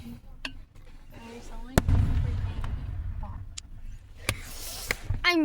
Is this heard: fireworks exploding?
yes